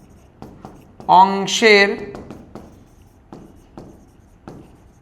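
Pen on paper writing out a math answer: soft, regular scratching strokes run throughout, while a person speaks briefly over them.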